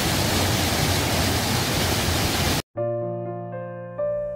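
An 18 m waterfall in Korea roars as a dense, steady wash of falling water for over two seconds, then cuts off abruptly to quiet sustained musical tones.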